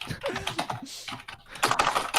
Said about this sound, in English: The keyboard is clicking.